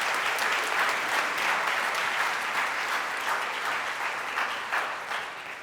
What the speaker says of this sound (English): I'd like to give them a round of applause for all of the ones that have been involved in this